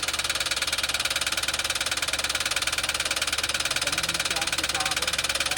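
A Toyota Wigo engine, damaged by water drawn into its air cleaner, runs rough with a steady rapid rhythmic knocking pulse close by, while people talk over it.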